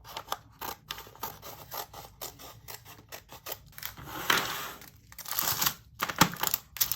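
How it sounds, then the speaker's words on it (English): Scissors snip and paper crinkles while a diamond painting kit is cut and sorted, a run of quick close clicks and rustles with a few louder sharp cuts near the end. "Let's go ahead and cut this right here."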